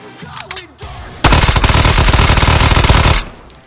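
A gun fires in the VR game Ghosts of Tabor, a loud, rapid automatic burst of shots lasting about two seconds after a few quieter handling clicks, then stopping abruptly.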